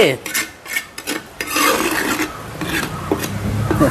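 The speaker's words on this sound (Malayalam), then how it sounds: "ചട്ടിയൊക്കെ വടിച്ചെടുത്ത്" A cooking pan used for kappa biriyani is scraped clean with a utensil, giving a series of rough rasping strokes in bursts, close and fairly loud, with no talk over it.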